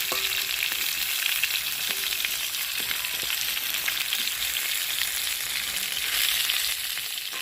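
Potatoes for vegetarian aloo dum frying in hot oil, a dense, steady close-up sizzle with faint occasional stirring, continuous throughout with no talk.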